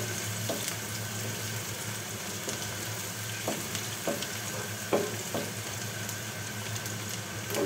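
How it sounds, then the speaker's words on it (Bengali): Bay leaves and whole spices frying with onions in hot oil for a chicken and vegetable curry, a steady close sizzle with occasional scraping stirs and light clicks of a spoon. "এগুলো আমি এই পেঁয়াজের সাথে ভেজে নেব"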